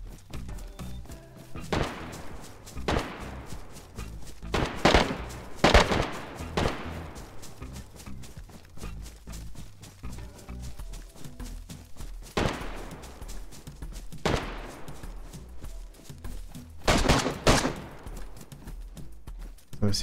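AK and .308 rifle shots ring out in DayZ, several sharp cracks and bursts with long echoing tails scattered across the stretch, some near and loud, others more distant, with talking underneath.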